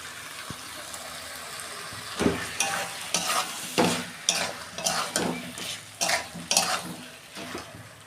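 Jackfruit added to masala-fried potatoes in a pan, with a steady sizzle under a series of rhythmic scraping stir strokes that repeat about every half second from around two seconds on, no talk.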